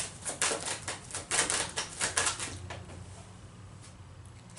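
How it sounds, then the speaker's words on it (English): Tarot cards are pulled and snapped from a deck in a quick run of crisp flicks and slaps up close, about eight sharp hits that trail off into quiet room tone. "Let me pull some more cards and see what's going on."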